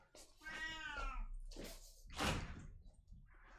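A cat meows several times in a row, drawn-out and wavering, loud and close with short pauses between the cries.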